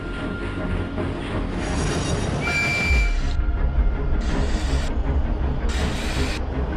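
A train in the game Trainz rumbles along steadily with a hissing, clattering wash of noise, broken by a brief high squeal and bursts of brighter hiss.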